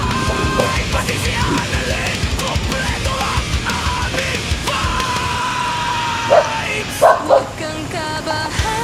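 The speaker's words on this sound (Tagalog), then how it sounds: "Kasi yung aso, nakatingin lang tapos pasugod." A dog barks and yips a few times near the end of the clip, loud and close against steady background noise.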